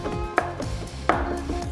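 Knife chopping garlic cloves on a board, two sharp distinct chops about a second apart, close and clear with faint kitchen background and no talking.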